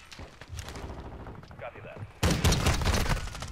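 Bursts of Lockwood MK2 gunfire in a Call of Duty: Modern Warfare 6v6 match, a quieter stretch of fire followed by a loud dense volley, with a player speaking over it.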